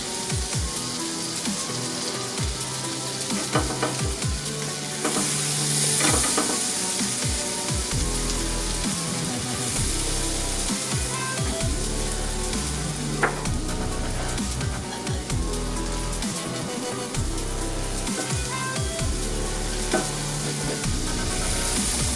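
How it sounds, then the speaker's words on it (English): Minced garlic fries in melted butter for a shrimp and crawfish étouffée, a dense, continuous sizzle and popping like rain on a surface, with frequent stirring scrapes throughout, no voices. "we're going to start off by melting our butter, which we have already done. And then we're going to add our minced garlic."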